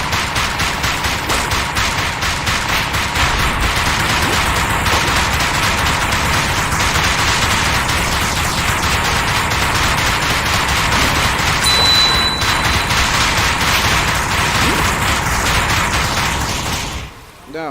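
Rapid gunfire from the VR shooting game Dick Wilde 2 while shooting redfish, a loud, sustained rattle of shots with clanking mechanical noise that cuts off abruptly near the end.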